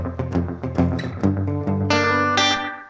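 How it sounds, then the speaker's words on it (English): Electric guitar lick played over a held major barre chord in a rockabilly style, with effects, several quick picked notes ringing into each other, then two bright chord stabs near the end. "But you can hold the whole thing as a chord and do this lick."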